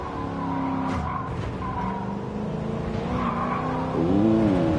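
Tires squeal and skid on a De Tomaso race car at Monza in Gran Turismo 7, with wavering squeals over a steady engine drone and a sharper squeal near the end.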